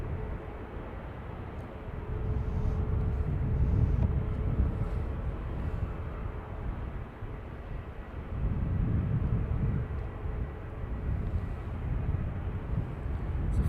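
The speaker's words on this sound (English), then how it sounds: "It's a Falcon anyway." A Dassault Falcon business jet on approach to Dublin Airport's north runway gives a steady, distant, low rumbling roar that swells and fades gently, heard outdoors with some wind buffeting and no voices.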